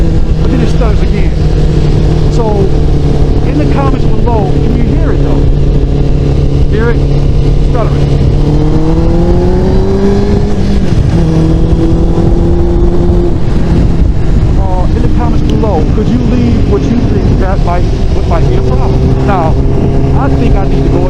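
A motorcycle engine runs loud and close with a steady droning tone, rising in pitch as it revs, then dipping and wavering unevenly as it stutters before settling back to a rough idle.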